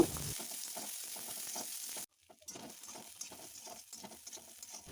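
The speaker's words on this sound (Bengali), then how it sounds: "কড়াইয়ে সামান্য তেল নিয়ে নিয়েছি তাতে দিয়েছি জিরে ফোড়ন পেঁয়াজগুলো এবার আমি ভালো করে ভেজে নেব" Onions fry quietly in a little oil with cumin seeds in a wok, a soft crackling sizzle with stirring scrapes that briefly drops out partway through.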